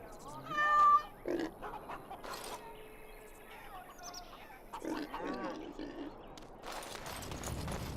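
A cat meows in Dragon Age: Origins – Awakening, a few short, close mewing calls near the start, followed by softer game ambience, rustles and clicks.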